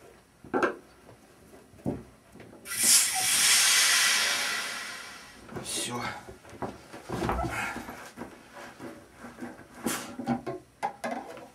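Pressure is released from a plastic beer keg in a loud, close hiss lasting around two seconds, followed by scattered clicks, knocks and handling noises of the keg fittings.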